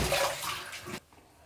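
Water runs from a tap while a razor is rinsed, a steady close splashing rush that stops abruptly after about a second and leaves faint room noise.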